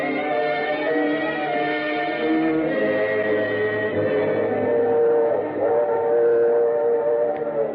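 A train sound effect for an old Sam Spade radio drama: a steady rolling rumble with sustained whistle-like tones held throughout, loud and continuous, with no voices.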